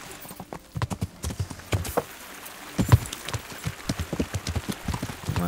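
Horse hooves clip-clopping steadily while riding in Kingdom Come: Deliverance, a regular close trotting rhythm of soft thuds over light ambient noise.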